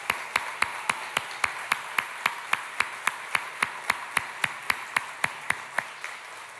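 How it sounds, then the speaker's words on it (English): Steady, evenly spaced sharp claps ring out in a regular rhythm, clear and fairly close with no voices, as applause for workers at a Toyota plant expansion event in San Antonio. "Let's give them a big round of applause."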